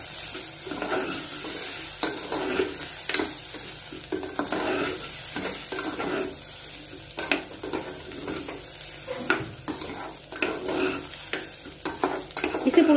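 Rice frying with bay leaf and turmeric for pushpanna pulao, stirred with repeated close scrapes and soft clatters of the spoon against the pan over a constant low sizzle, no talking.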